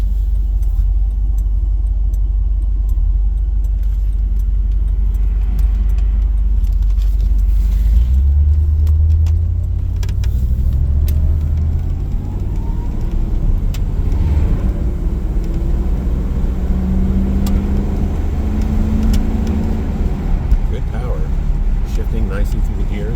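A restored 1980 Chevrolet Corvette with a 3-speed drives through the gears, its engine rumble rising and falling with each shift under continuous in-car talk.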